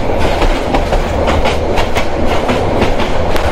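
Teesta Express passenger train heard from its open carriage door while crossing rural countryside: a loud, steady rumble of running wheels with regular clickety-clack beats on the rails throughout, no voices.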